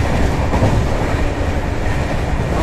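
The Rupasi Bangla Express runs fast, heard from inside the coach as a loud, continuous rumble with rhythmic rattling of wheels on rail joints.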